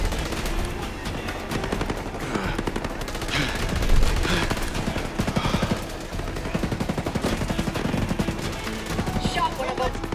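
Rapid, continuous automatic gunfire in the video game Ghost Recon Breakpoint, dense bursts of shots rattling steadily throughout at moderate loudness with no clear pauses.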